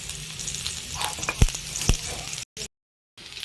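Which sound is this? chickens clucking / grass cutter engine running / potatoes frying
potatoes frying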